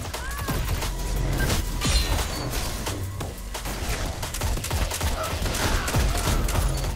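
Dense, continuous gunfire from a Destiny 6v6 Inferno match, with rapid overlapping shots and impacts filling the whole stretch at a steady, loud level.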